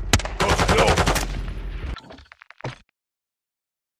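Gunfire in the Modern Warfare 2 video game: a loud, sustained automatic burst of about two seconds, followed by a few scattered sharp shots and impacts that trail off into silence.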